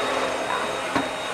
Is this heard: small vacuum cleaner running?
yes